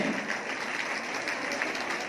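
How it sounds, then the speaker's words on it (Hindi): An audience at a women's gathering claps steadily in a dense, even round of applause that holds at the same level throughout. "ताली बजा सकते हैं, ताली में कंजूसी नहीं करें"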